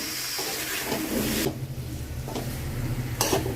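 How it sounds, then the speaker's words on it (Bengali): Fried jackfruit and potato being stirred into a spice masala in a pan, with scraping stirring strokes over a steady sizzle of oil, fairly close, with a brief quieter pause midway. "এখন অ্যাড করা হচ্ছে ভেজে রাখা ইঁচড় আর আলু দিয়ে মশলার সাথে ভালো করে কষাতে হবে"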